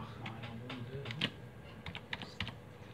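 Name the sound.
typing a password on a computer keyboard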